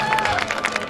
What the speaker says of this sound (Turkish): değerli misafirlerimizden kuvvetli bir alkış istiyorum